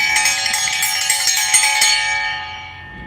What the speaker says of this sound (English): here's our dinner bell